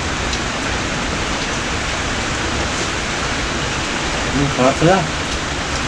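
Steady outdoor rain falls as an even, dense hiss throughout, loud and close, with a few faint voices briefly rising under it near the end.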